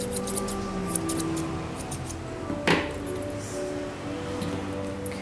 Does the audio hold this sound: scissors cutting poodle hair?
yes